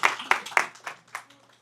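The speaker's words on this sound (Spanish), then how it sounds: "Aplauso a la mesa número 4." Scattered clapping at a public consultation forum on risk reduction in Mexico City, honoring table number four: a few distinct, close hand claps that quickly thin out and fade.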